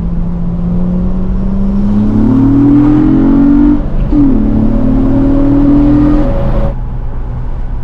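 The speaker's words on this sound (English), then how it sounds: "Time to floor it again." A car accelerates hard on a long highway drive at night, its engine note climbing steadily through two rising pulls with a brief dip between, loud and close from inside the cabin, with no voices.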